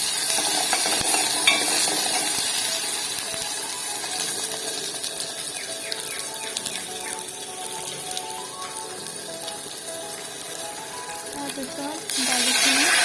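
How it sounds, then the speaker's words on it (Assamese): Tomatoes fry with mustard seeds in a pan while a red pumpkin curry is made, giving a steady soft sizzle with occasional stirring scrapes, close and continuous. "বিলাহীটো মই অকণমান ইয়াতে ভাজি ল'ম।"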